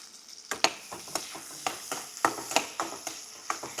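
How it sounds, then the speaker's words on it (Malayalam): Garnish onions for biryani fry in ghee, giving a soft sizzle punctuated by regular sharp scraping strokes of a spoon against the pan. "പിന്നെ അതേ നെയ്യിലേക്ക് ഞാനിത് ഗാർണിഷ് ചെയ്യാനുള്ള ഉള്ളി ഇട്ടിട്ടുണ്ട്"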